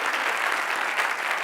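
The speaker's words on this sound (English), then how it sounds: "Round of applause." Audience applause fills the room at a tPA Cage Match talk event, a steady, dense wash of many hands clapping at close range for about a second and a half, with no voices over it.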